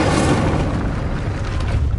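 A fiery Incendio spell bursts out in Hogwarts Legacy with a loud, dense whoosh and rumbling blast that fills the whole two seconds and then slowly thins, with no voice over it.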